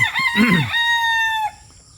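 A Boston Black rooster with a straight comb gives one close, loud crow that rises, holds a long tone and then breaks off.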